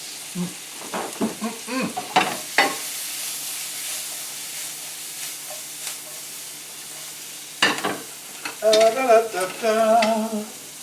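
Diced shallots and shiitake mushrooms sizzling in a pan, with a moderate hiss under intermittent talking and a few scraping, clattering bursts of stirring.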